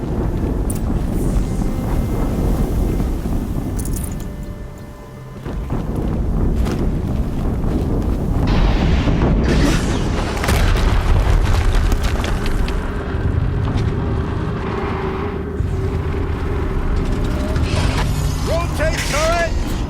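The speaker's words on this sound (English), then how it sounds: "Explosion." Explosion in the video game Horizon Zero Dawn, a dense, loud rumbling roar that continues through the clip, with a brief dip before rising again into heavy, sustained blasting and mechanical noise.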